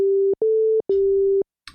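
Liven XFM synth playing two FM operators at the same pitch, giving plain pure tones that sound as three short, identical, steady beeps with brief gaps, followed by a faint click.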